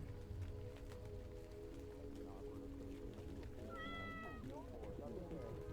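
A cat meows once, a drawn-out rising call partway through, set over a steady background of continuous talking and hum.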